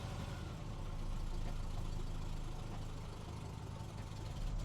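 A Mitsubishi Ram 50 pickup engine runs rough and strains to idle on its own, a steady low rumble that holds close and loud throughout.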